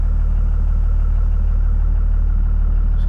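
A Cummins diesel truck engine runs at a steady low rumble, idling evenly before pulling off, close and continuous with no talk over it.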